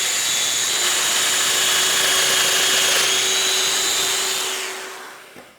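A Festool Domino DF 500 joiner switched on and cutting into wood, a loud steady high-pitched motor whine with a cutting rasp that holds for several seconds, then winds down; no talking.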